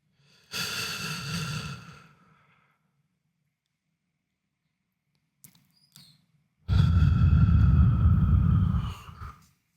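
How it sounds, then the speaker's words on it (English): Two slow, deep breaths, each a long audible inhale and exhale, close and clear, separated by a stretch of near silence during a mindful breathing exercise. "Simply follow the breath with my mind in and down, then up and out."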